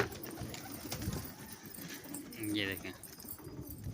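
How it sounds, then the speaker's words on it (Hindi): Pigeons coo softly in their coop in a low, continuous murmur, with a brief flutter or call partway through, while someone talks over them. "माशाल्लाह से कबूतर देखें सारे एक्टिव हैं।"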